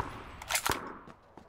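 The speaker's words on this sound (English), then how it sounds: "some guy just loaded a gun by me" Weapon being loaded in PUBG: a few quick metallic clicks and clacks close by, a sharper pair in the middle followed by fainter taps, with no talk.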